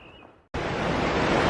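A river flows through a mountain valley, heard as a strong, steady broadband rush that surges in abruptly after a brief quieter moment and then holds loud and continuous.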